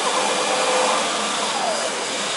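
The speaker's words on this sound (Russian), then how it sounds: "пылесос, в основном на мойках, я знаю, пылесосы, они слабые" A coin-operated vacuum cleaner at a German self-service car wash roars continuously, a loud, close, steady airy whine with no break and no talk.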